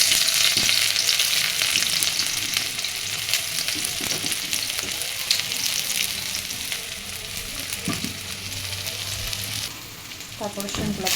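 Onion and garlic frying in hot oil, a loud continuous sizzle with occasional spatula scrapes and stirring clatter, the hiss easing briefly near the end before picking up again.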